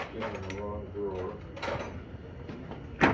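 A drawer slides and bumps shut during work on dismantling a Corvair transmission, with a sharp clack at the end, heard under people talking.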